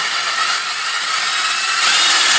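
A power drill bores steadily into hollow tile, producing a loud, continuous grinding whine with a harsh high-pitched hiss. It holds for the whole moment and grows slightly louder near the end.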